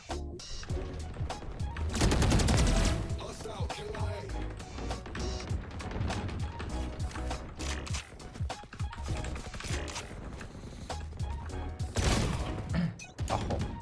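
Rapid gunfire in a video game, played while testing a wireless gaming mouse, crackles densely throughout, with sharp repeated shots, bursts of automatic fire and clanking mechanical effects at steady loudness.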